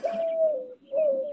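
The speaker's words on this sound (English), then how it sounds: "They have doves outside their window." Two drawn-out, hooting coos from a dove just outside a window, close and clear with a brief pause between them.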